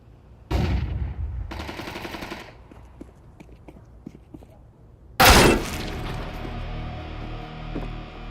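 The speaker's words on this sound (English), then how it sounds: "Flashbang." A flashbang grenade detonates in Counter-Strike 2 as one sharp, loud blast that leaves a long ringing tail, preceded by softer bursts and scattered clicks of gunplay.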